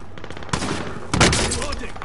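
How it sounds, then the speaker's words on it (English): Gunfire from Call of Duty Warzone gameplay comes as two quick bursts of shots, close and loud. "Why is he shooting at me?"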